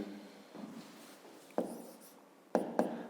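A pen or pencil scratches on paper while a math problem on area is worked out in a fifth-grade lesson: quiet, intermittent strokes with a few sharper taps and pauses between them.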